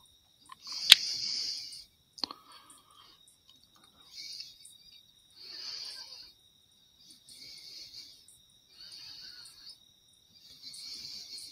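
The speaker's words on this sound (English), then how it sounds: "Couple of grasshoppers in the background." Grasshoppers chirping outdoors in the background, short bursts of high, buzzy stridulation repeating every second or two, faint and fairly distant, with a sharp click early on and no talk.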